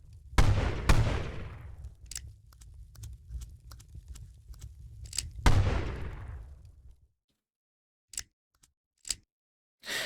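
Revolver gunshots in a video game: two loud, sharp blasts with long ringing tails, separated by light mechanical clicks, then brief silence and a few more short clicks and pops.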